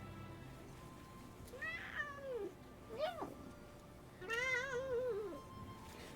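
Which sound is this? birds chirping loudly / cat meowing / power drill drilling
cat meowing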